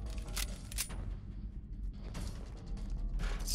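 Weapon being reloaded by a player in Fallout 4 while fighting ghouls, a series of mechanical clicks and metallic clacks over a continuous game background rumble, without speech.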